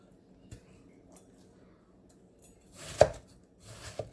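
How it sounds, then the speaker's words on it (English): A kitchen knife cuts through watermelon on a cutting board, giving a few scattered, soft thuds and then two louder, crisp chops near the end. The sound is close, with quiet pauses between the cuts. "So cut the melon into pieces because we want it to be easier to go inside the blender."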